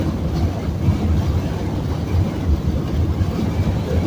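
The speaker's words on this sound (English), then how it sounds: "So the wind is really bad right now." Heavy wind buffets a car driving on a highway between Fresno and Pleasanton, California, making a loud, steady roar and rumble that fills the whole clip with no break.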